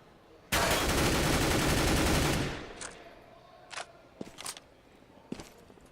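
Rapid automatic gunfire in the CS:GO video game during a tournament match, a loud sustained burst lasting about two seconds, then fading into a few sharp, quieter isolated shots and clicks.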